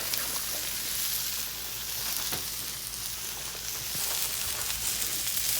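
Peas and carrots from a bag sizzle and fry steadily in a hot pan for chicken fried rice, a continuous close crackling hiss with no talking.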